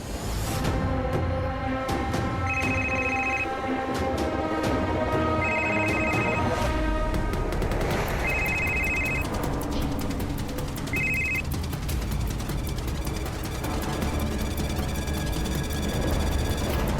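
A mobile phone rings after a call is placed, giving four repeated electronic ring bursts at regular intervals over a busy background of room noise.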